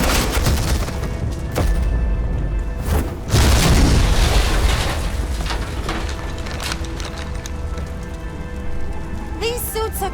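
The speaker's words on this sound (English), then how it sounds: "suppressing fire." Gunfire in the Batman: The Enemy Within video game during a suppressing-fire scene: dense, sustained bursts of shots and booms form a loud, constant din, with a heavier blast partway through.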